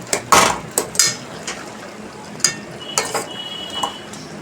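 Food stirred in a cooking pot with a mix of potato, salt and milk, a spoon clanking and scraping against the metal in irregular knocks, close and fairly loud over a faint background hiss.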